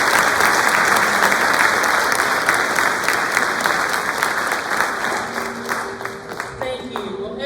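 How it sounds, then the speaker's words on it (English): Sustained applause from a large crowd at a junior honor society induction ceremony fills the clip, steady dense clapping that gradually softens toward the end. "please join me once again in applauding all of our Honor Society members."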